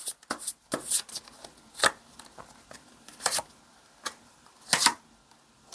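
Tarot cards are shuffled and drawn during a reading, producing sharp, close snaps and flicks at an irregular pace against a quiet room.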